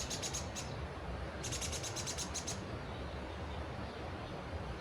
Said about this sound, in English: Don't know what that bird is.